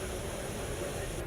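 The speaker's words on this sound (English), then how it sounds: "Let me play this noise for you. It's just a little bit of white noise." White noise plays back in Spectral Layers audio editing software as a steady, dense hiss. It stays even and unbroken for just over a second, close and quiet, with no other sound.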